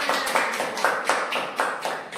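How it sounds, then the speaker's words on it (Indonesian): A small group of students claps together in a classroom, a short burst of uneven, moderately close hand claps in a loose repeating rhythm, with no talking. "Tepuk tangan untuk kita semua."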